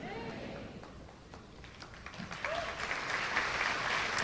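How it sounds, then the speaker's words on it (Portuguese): A church congregation starts clapping at the close of a Portuguese sermon, quiet at first and then swelling into a fuller, steady round of applause, with a voice speaking briefly over the early part. "Vamos aplaudir o nome de Jesus?"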